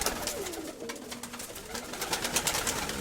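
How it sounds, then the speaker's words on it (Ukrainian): Pigeons coo softly in low, rolling calls amid a noisy, crowded background of fluttering and rustling. "Казарма наповнюється в цілому голубами."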